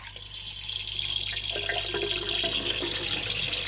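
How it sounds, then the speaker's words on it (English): AquaEL Turbo 500 aquarium filter pushing water out through its venturi, a steady, fairly loud rushing splash that holds constant throughout with no talk over it. "The water started coming out of the Venturi, so you'd need the Venturi attached."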